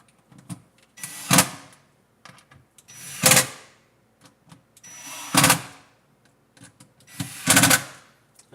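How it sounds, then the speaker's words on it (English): A power driver tightens plastic-mounted screws on a dishwasher in four short whirring bursts with quiet pauses between them, close and clear, with no talking. "we've got these 4 screws, which we've got to tighten"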